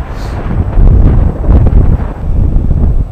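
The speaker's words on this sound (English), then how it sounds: "It's quite windy." Strong coastal wind at La Jolla, California, blows over an ocean with whitecaps, a loud, continuous roar buffeting the microphone for the whole stretch.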